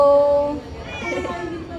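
Cat meowing close by, one drawn-out cry with a tonal start that roughens into a strained, wavering call, heard among caged kittens and other cats in a cat shelter.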